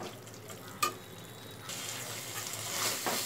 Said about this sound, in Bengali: চালটা 2 মিনিট কষিয়ে নিয়েছি